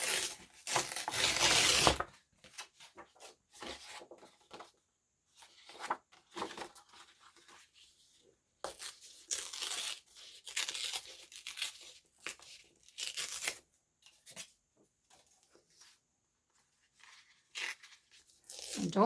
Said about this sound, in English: So I'm just going to tear this myself.